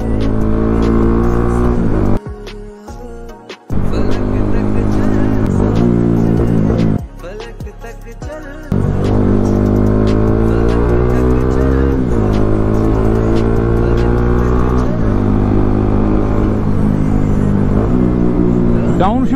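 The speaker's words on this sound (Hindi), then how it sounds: "डाउन शिफ्ट देखो, डाउन शिफ्ट कैसा बज रहा है यार।" A loud Bajaj Pulsar NS200 motorcycle with an Akrapovic exhaust revs and drops through downshifts, with sharp exhaust pops and crackles between gear changes.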